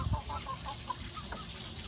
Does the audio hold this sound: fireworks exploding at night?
no